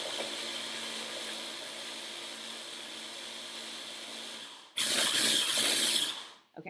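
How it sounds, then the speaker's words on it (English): A blender whirs steadily through a batch of cilantro, a continuous broadband grind that suddenly jumps louder and brighter near the end before cutting off, with no talking. "Now I'm going to blend it."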